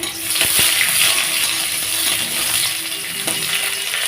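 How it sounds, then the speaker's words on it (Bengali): Chopped onion hitting hot oil with bay leaf and whole cumin, giving a loud, dense sizzle with a couple of sharp clinks of a utensil against the pan, steady to the end. "এখানে আমি একটু পেঁয়াজ কুচি দিয়ে দিচ্ছি ফোড়নটার মধ্যে"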